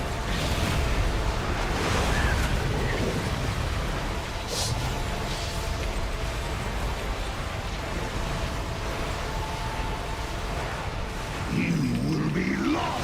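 A World of Warcraft: The War Within time waves magic effect makes a dense, steady rushing surge like crashing surf and wind. It stays loud throughout and swells into a deeper rumble near the end.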